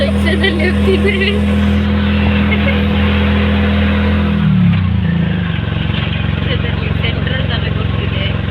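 Auto rickshaw engine heard from the passenger seat during a ride, its loud, steady hum dipping in pitch midway as the vehicle eases off, with voices talking over it.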